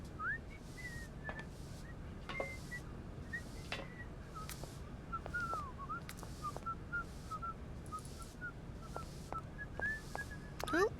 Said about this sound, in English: Who is whistling?